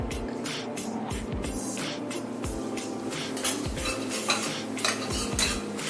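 A spoon works through coconut ladoo mixture in a pan, scraping and clinking against the metal in a steady, repeated rhythm at close range, with no one talking.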